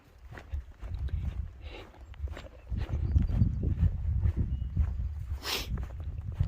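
Horses moving about outdoors near rock formations on the Appalachian Trail, with soft irregular hoof thuds and scuffs over a low rumbling background, and a brief snort near the end.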